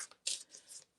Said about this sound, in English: All the other cards have already been shuffled, except for this one deck. We're gonna shuffle it too.